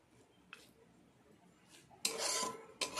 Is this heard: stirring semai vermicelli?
yes